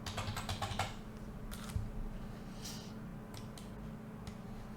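Fingers type on a computer keyboard while text is entered in a PowerPoint slide: a rapid run of close clicking keystrokes, then scattered single key presses over a steady low background hum.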